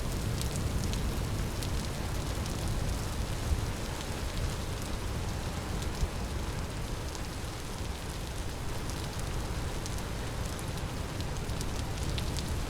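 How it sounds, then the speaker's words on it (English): Steady rain falls throughout in the video game Hungry, a dense even wash of patter and hiss with scattered small drop ticks and no voices. "As it starts raining."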